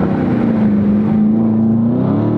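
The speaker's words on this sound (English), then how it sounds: "Your car loud." Loud car engine revving close by, a steady droning growl with a strong low tone that rises slightly toward the end, no voices over it.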